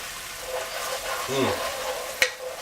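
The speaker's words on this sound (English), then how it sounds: "a little less than a 1/4 cup of sherry. Just kind of eyeballing that. Kind of deglaze the pan a little bit." Sherry poured into a hot pan to deglaze it gives a soft, steady sizzle with a brief hiss and a sharp clink of a utensil near the end, while a faint voice murmurs underneath.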